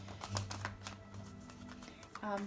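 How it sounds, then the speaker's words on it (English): Oracle card deck being shuffled by hand, a run of soft, quick riffling taps and flicks at close range, quiet and irregular with a faint background hum. "Shuffling the next deck of cards, the Wisdom of Oracle card deck."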